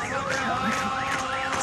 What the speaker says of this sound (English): There's the siren we've been waiting for 24 hours, the 33rd siren blaring